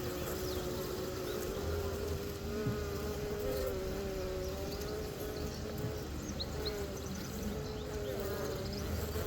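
Honey bees buzz densely and continuously during a hive inspection, a close, steady drone with wavering pitch filling the whole span, with no clear talk over it.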